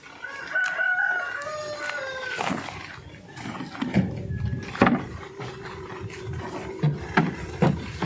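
A rooster crows and chickens cluck, with scattered sharp knocks and rustling nearby.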